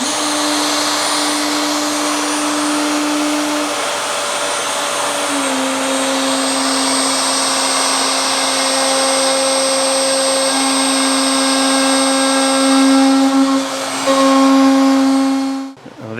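Router table bit hogging off wood in stages, a loud continuous high whine with a steady motor drone throughout, ending abruptly as the cut finishes.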